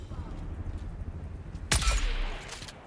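Enemy gunfire in a shooter game: a sudden loud burst of shots cracks near the end after a stretch of quieter background, with rapid follow-up reports trailing off.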